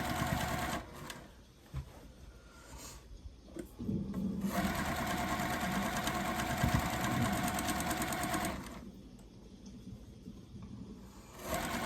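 Sewing machine stitching a quilt, running in close bursts of fast, even mechanical chatter, with a long steady run in the middle and short pauses and clicks between runs.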